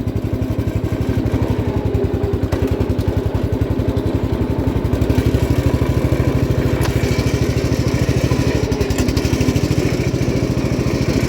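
An old 1967 Gravely 430 garden tractor engine runs steadily with a rough, chugging putter, loud and close, holding an even idle throughout with no voices.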